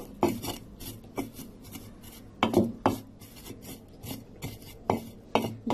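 Burnt chillies are ground by hand on a grinding stone for a hilsa fish mash, making repeated close scraping rasps in an uneven rhythm, about a dozen strokes with no voice.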